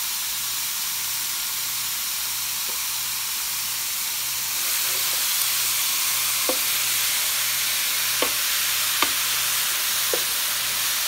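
Food sizzling and hissing in a Presto foldaway electric skillet with a little oil, a steady broadband hiss that swells after a few seconds and carries occasional small pops, with no talking.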